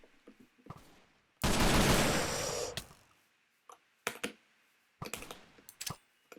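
Bursts of gunfire in Minecraft during a battle for a settlement: a sustained rapid volley, then several short sharp shot clusters separated by pauses.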